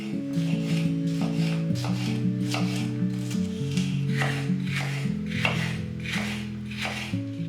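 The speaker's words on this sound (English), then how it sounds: "Slice them into thin strips." A knife slicing sweet pepper into thin strips on a board, heard as a run of crisp rhythmic cutting strokes, close up, behind a loud layer of sustained tonal background music.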